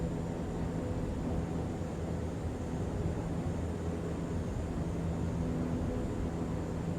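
A Canadair CL-415 water bomber's twin engines at takeoff power in MSFS 2024 give a steady, loud, unbroken droning roar with a faint whine on top. Nothing else is heard.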